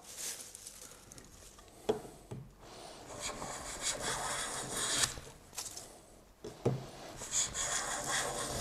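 A restored cheap flea-market hand plane shaving paper-thin wood curls, giving steady rasping, rubbing strokes with a few sharper knocks, close and fairly quiet with no talk.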